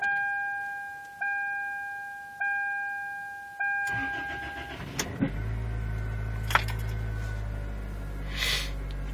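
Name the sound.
1998 Chevy Prizm engine cold start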